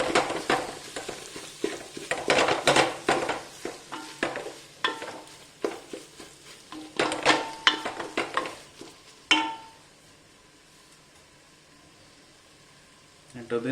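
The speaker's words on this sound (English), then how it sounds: "So slightly mash it with your spoon." A spoon mashing and stirring thick haleem in a cooking pot gives repeated soft scraping, squelching strokes in an irregular rhythm, close and moderately loud, then the strokes stop and a quiet hiss remains.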